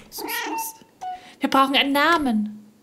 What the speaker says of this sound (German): Oh, da ist ja noch eine Katze.